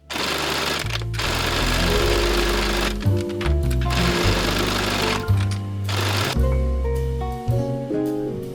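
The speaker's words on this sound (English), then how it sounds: "And now I'm ready to put it on and sew it on" A sewing machine stitching a quilted blanket into a vest, running in loud, fast mechanical bursts with brief pauses between runs.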